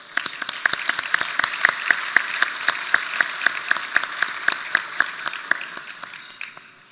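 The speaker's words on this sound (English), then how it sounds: "please join me with a round of applause for all of our volunteers" Steady applause from a small crowd, rhythmic clapping close by for several seconds before fading slightly at the end.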